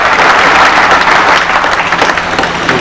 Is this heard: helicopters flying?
no